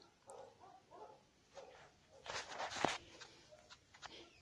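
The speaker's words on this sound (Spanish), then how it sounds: "¿Oyen los perros?" Dogs bark faintly in the distance, a few scattered yips and a short cluster of barks in quiet outdoor air by mountains.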